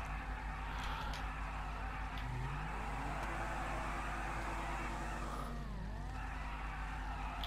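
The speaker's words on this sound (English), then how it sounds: "I think we're just drifting and starting again" Video-game car drifting and skidding, with a steady loud engine drone and rising, falling tire squeal across the whole stretch, no talk.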